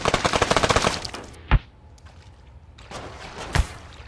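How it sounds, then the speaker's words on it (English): A Gatling gun fires in Untitled Pixel Simulator, a loud, fast, even burst of shots lasting about a second, followed by two single sharp cracks spaced well apart. "then we have this one, which is a Gatling gun"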